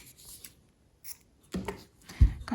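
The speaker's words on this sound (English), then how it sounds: "Cut off your yarn," Scissors cut off yarn at the end of a crocheted tulip headband, giving two brief, quiet snips near the end after some soft handling rustle.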